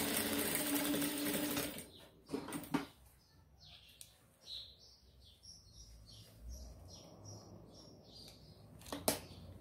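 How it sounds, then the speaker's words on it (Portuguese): A sewing machine runs in a quick, loud burst while stitching a fabric crib sheet, then stops. Faint handling clicks and soft chirping follow in a quiet room. "passa a sua costura aqui com o seu pé de máquina"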